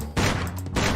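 Gunfire from the Sam & Max Beyond Time and Space video game, two loud close blasts in quick succession within about a second.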